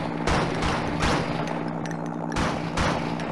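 Shotgun blasts in the game Pig Tanks / Blood and Bacon, four or five loud, closely spaced booming shots fired in a steady rhythm, near and alone without talk.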